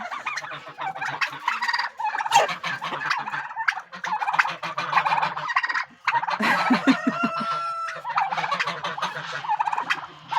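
Poultry calling loudly and continuously at close range, a dense overlapping clamor of gobbling and clucking from several birds in a backyard flock, with no talking.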